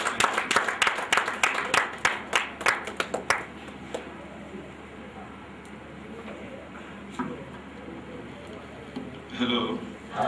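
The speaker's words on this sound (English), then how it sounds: "Another round of applause." Scattered clapping from a small workshop audience at an entrepreneurship session, fairly loud for a few seconds, then thinning out into quiet murmur and a brief voice.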